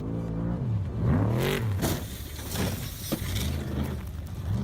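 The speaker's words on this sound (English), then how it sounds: "The car sped along the crowded road." A car speeds along a crowded road, loud engine revving and whirring with rising and falling pitch sweeps, passing traffic clatter around it.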